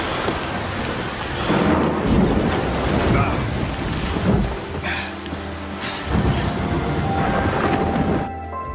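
Heavy thunder rumbles and crashes over steady pouring rain and surging sea waves in a film scene of a ship caught in a violent storm at midday, loud and continuous without speech.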